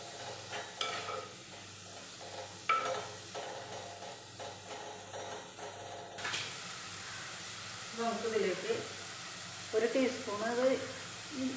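Onion, green chili and ginger sautéing in a pan for chicken curry, a soft sizzle with scraping stirs and a few utensil clinks, fairly quiet, with a voice speaking over part of it.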